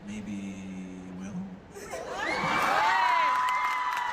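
A large crowd erupts into loud cheering, whoops and high-pitched shouts that swell and hold after a short quieter moment, filling the space.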